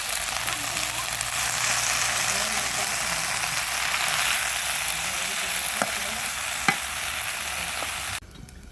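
Leafy greens with turmeric and salt fry in a pan, a loud, steady sizzle broken by a few sharp stirring clicks before the sound cuts off abruptly near the end.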